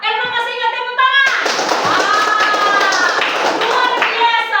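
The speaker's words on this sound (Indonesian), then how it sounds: "Iya, Elma masih ingat, tepuk tangan." Schoolchildren in a classroom clap their hands together, a burst of quick, close claps that starts after a short voice and carries on under overlapping speech.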